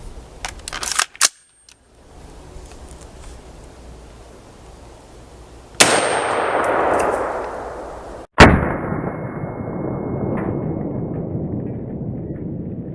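A rifle fires a 5.56 Federal Varmint round for a home defense penetration test, with sharp, loud reports around six and eight seconds, each followed by a long, decaying echo outdoors.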